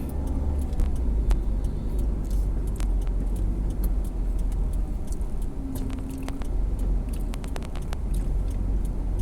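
A car moves through slow exit traffic, with a steady low engine and road rumble throughout, a brief tonal hum partway through and faint jingling, with no talk over it.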